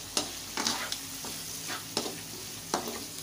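Onion pieces, separated into layers for restaurant-style chilli chicken, fry in a pan with steady sizzling, punctuated by several sharp stirring scrapes spaced about half a second apart, close and moderately loud.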